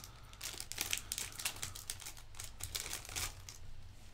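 Plastic wrapper of a Munchkin CCG card pack torn open by hand, a continuous close crinkling and crackling with quick rustling bursts throughout, no talking.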